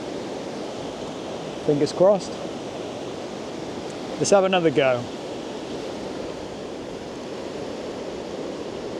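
Ocean waves wash steadily onto the shore in the golden light near sunset, a constant soft roar that runs throughout, with someone speaking briefly twice over it.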